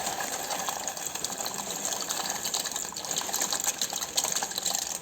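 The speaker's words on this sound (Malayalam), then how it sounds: "ഇനി നമുക്കതിലേക്ക് ആവശ്യത്തിനനുസരിച്ച് പാസ്ത ഇട്ട് കൊടുക്കാം" Pasta dropped into a pot of boiling salted water, giving a steady, fairly loud bubbling and rushing water sound throughout, with no talk.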